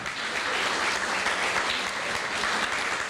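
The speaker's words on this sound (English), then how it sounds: "Round of applause for Saffron Road." Audience applause for a sponsor at a World Refugee Day 2022 event in New Haven, an even wash of clapping from a crowd, moderately distant and steady throughout.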